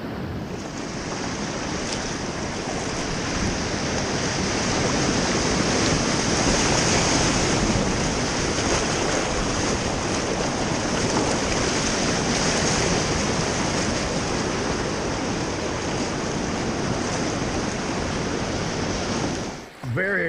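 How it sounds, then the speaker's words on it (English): Steady rushing water and surf noise from a small surf wave met while kayaking fill the whole stretch, with wind buffeting the microphone and faint voices underneath, cutting off abruptly at the end. "Little surf wave right here."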